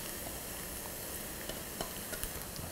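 Corn for Szechuan fried rice sizzles quietly in a pan over low heat alongside soy sauce, a steady frying hiss broken by a few light stirring clicks.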